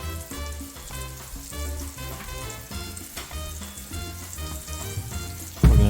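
Double-battered crappie fillets frying in hot oil, a loud, close, continuous sizzle and crackle that runs steadily throughout without any talking.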